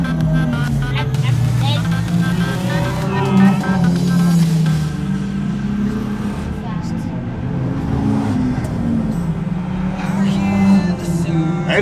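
Banger race cars roar around the oval at United Downs during the 2015 National Banger Final, loud continuous engine drone with cars passing, under constant excited race commentary.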